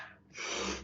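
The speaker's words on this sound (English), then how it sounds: "Deep breaths in. Power breaths in." A single deep, forceful power breath is drawn in through the nose during breathwork, rising to a loud, airy rush that fills the moment.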